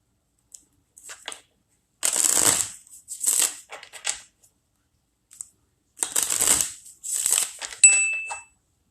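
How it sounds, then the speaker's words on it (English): Tarot cards are shuffled in several crisp, papery bursts separated by pauses, close up, with a brief electronic ding near the end. "I really do shuffle these."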